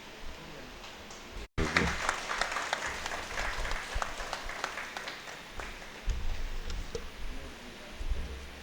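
A seated crowd at a stage event with speakers claps in a thick, rustling burst. A brief dropout near the start gives way to scattered sharp claps, then continuous applause that swells and eases in waves.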